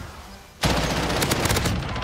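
Rapid automatic weapon fire from Call of Duty: Warzone bursts in after a brief quiet stretch, a loud sustained volley of close gunshots with no talking.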